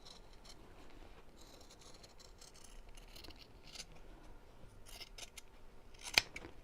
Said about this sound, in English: So I'm cutting about 1/8 of an inch or just a couple of millimetres away from the stitches